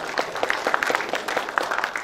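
An audience applauds at a business talk, a moderately loud burst of many hands clapping in a quick, uneven patter for a couple of seconds.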